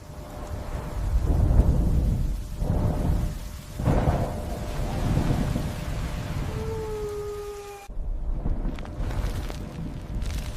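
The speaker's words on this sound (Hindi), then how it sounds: "और तब आकाश के झरने खुल गए और वर्षा पृथ्वी पर उतरने लगी।" A thunderstorm with steady heavy rain and repeated deep rolls of thunder building and fading, close and loud throughout.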